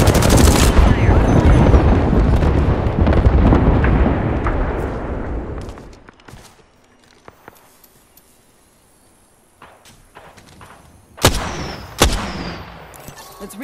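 Heavy gunfire in Apex Legends roars in a loud, sustained burst of rapid shots and blasts that fades away after several seconds, then a few sharp, isolated shots crack out near the end.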